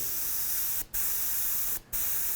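Continuous hiss of candy paint sprayed from an aerosol, briefly cut off twice in short gaps before resuming, loud and close.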